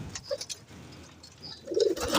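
Soft, low pigeon coos repeat in short throaty bursts, growing fuller toward the end, with faint chirps in the background.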